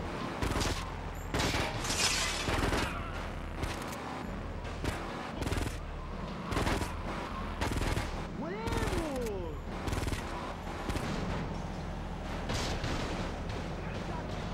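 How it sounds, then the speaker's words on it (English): Rapid bursts of gunfire from Grand Theft Auto Vice City Stories on PS2, repeated loud shots mixed with game sounds and a voice talking over them throughout. "We just don't got enough stray bullets occurring right now, alright? More stray bullets."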